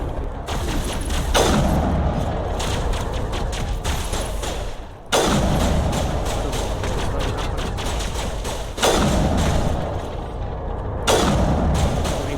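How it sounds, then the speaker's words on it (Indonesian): Grenade explosions in the Mass Effect video game, several loud booming blasts at intervals, each followed by a rumbling decay, with no talk. "Granatnya baru meledak."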